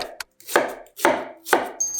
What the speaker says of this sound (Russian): Я разрезаю луковицу пополам и мелко нарезаю